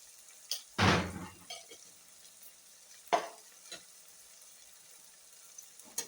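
Potatoes and brinjal fry in a pan, with a few sharp stirring scrapes and clinks over a faint low sizzle and long quiet gaps between them.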